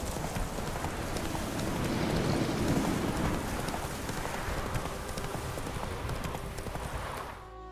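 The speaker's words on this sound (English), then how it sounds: "Run, Roach." Roach, the horse in The Witcher 3, galloping with a steady, rapid clip-clop of hooves under falling rain, loud and continuous, fading out at the very end.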